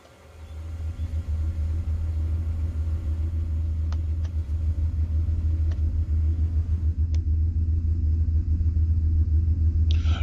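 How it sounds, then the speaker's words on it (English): A race car engine at Road Atlanta rumbles deeply and steadily, swelling in from quiet and holding a loud, low, pulsing drone, with a few faint clicks over it. "That's another amazing sounding car."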